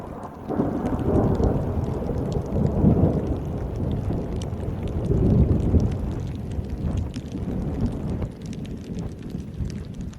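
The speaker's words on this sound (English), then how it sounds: "It's raining, man. Hallelujah, it's raining," Heavy rain pours steadily during a mountain hike, with rolling thunder rumbling through a dense, loud wash of falling water; no voices.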